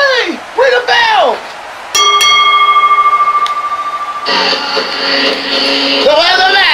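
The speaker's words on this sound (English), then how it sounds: "Ring the bell!" A wrestling ring bell rings repeatedly in a fast, clanging series at a televised arena match, sounding close and loud over crowd noise and an excited announcer's commentary.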